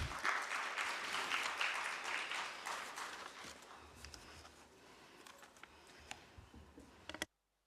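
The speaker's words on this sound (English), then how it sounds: "I would likewise invite ma'am to the dais with a round of applause," Audience applause at a conference in India welcoming a guest to the dais, a dense clapping wash in the first seconds that thins into scattered claps and fades out.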